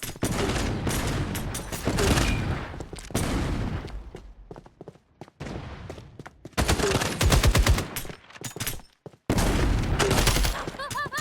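FragPunk gunfire blasts out in loud, dense automatic bursts with short pauses between volleys and a few deep thumps, while game voice callouts sound over the shooting.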